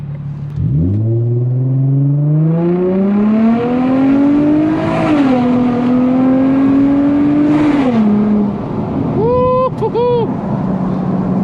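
An Infiniti G35 in manual mode with traction control on pulls hard. The engine note climbs steeply and loudly through the revs, dips at a shift, climbs again, then drops off with short revving blips at the end.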